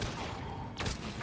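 Pistol fire in the video game Mass Effect 3, a dense burst of sharp game gunshots that crackles and booms over background game sound, with a brief louder flurry near the end.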